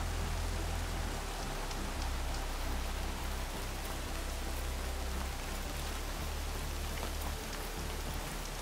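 Steady rain falls throughout a scene in the video game Horizon Forbidden West, a dense, even hiss of droplets on surfaces with a low rumbling undertone, continuous and fairly loud with no speech.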